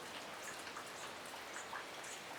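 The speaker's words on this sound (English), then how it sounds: "Water's just running off the roof now." Rainwater drips and runs steadily off a roof just after a shower, a soft continuous patter of scattered drops, close and even throughout, with no voices.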